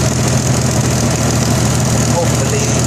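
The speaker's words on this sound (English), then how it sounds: "The exhaust leak is getting bigger." A Jeep 4.0 engine with an exhaust leak idles in a loud, steady, rough drone that fills the clip, close up and unbroken, with no talking over it.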